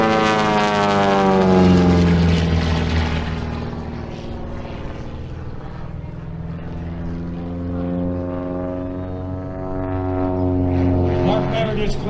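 An open-cockpit Chipmunk propeller plane with electric propulsion drones loudly overhead at an airshow, its engine pitch rising and falling as it passes close, with a voice speaking over the steady roar.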